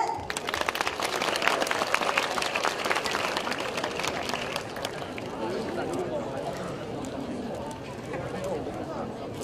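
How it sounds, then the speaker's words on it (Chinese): Crowd clapping and cheering at the opening ceremony of a national paintball competition in Kaohsiung, a sustained busy patter of hands with voices mixed in, fairly distant and steady throughout. "我们要再用热烈的掌声加尖叫声，来恭请我们高雄市政府吴副市长吴鸿蒙吴市长为我们致辞"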